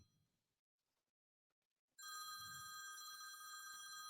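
Incoming call on a phone: after a near-silent stretch, a loud, bright electronic ringtone suddenly starts and rings steadily through the rest, alone without talk.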